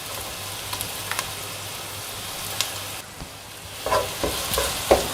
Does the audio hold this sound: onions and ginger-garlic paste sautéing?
yes